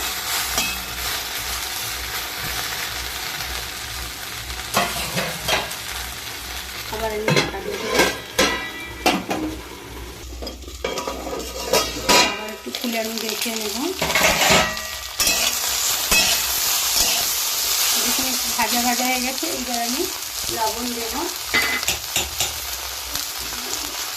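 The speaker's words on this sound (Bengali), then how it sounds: "গ্যাসটা এখন কমিয়ে ভাজছি" Okra sizzles steadily in a hot pan over lowered gas, with a spatula scraping and clinking against the metal as it gets stirred now and then.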